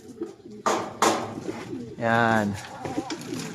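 A pigeon coos in soft, throaty rolls close by, with wing flutters and a person talking around it.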